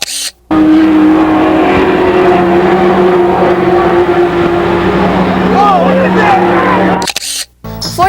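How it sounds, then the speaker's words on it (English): Stock cars race around an oval track, numbers 83 and 44 battling, with a loud continuous engine roar and whine sweeping past, fading briefly at the start and end. "Andy Bozell in car number 83 once again goes after Neil Callahan in car number 44"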